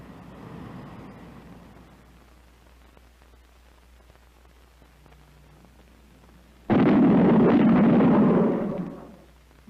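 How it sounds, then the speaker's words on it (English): Sonic bangs from an aircraft in transonic flight: after a stretch of quiet low rumble, a sudden loud broadband roar bursts in and holds for a few seconds before cutting off sharply. "those bangs were shock waves from an aircraft in transonic flight"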